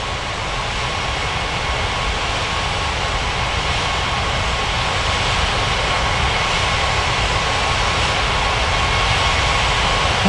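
Jet airliner engines at takeoff in an air traffic control game set at Ngurah Rai Bali International Airport, a steady loud broadband roar with a faint whine, constant for ten seconds.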